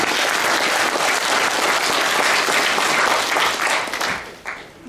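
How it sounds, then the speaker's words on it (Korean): An audience at a book launch applauds in a dense, steady roar of clapping that holds for several seconds before thinning out and fading near the end. "자랑스러운 얼음을 원하시면 박수 한번 부탁드립니다"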